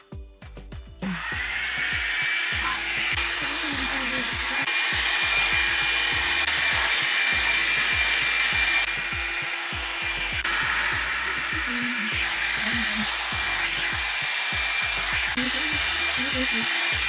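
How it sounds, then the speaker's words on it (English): Hair dryer blowing on braiding-prep hair, switching on after a second into a loud, steady whooshing roar with a faint whine, fluttering slightly as it moves around the ends. "So now that my hair is blow dried"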